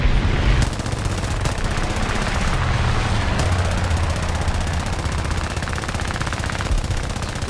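Aircraft machine guns of a Gladiator Mk I fighter fire in War Thunder, long rapid bursts of dense rattling gunfire with brief pauses between them, loud and continuous over engine drone.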